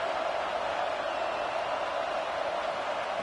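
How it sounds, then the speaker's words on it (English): Steady roaring stadium crowd in College Football 26 during a Penn State home playoff game against UNLV, a constant dense wash of noise with no distinct peaks. "here comes the noise. This crowd is trying to inspire this defense to make a big red zone stop"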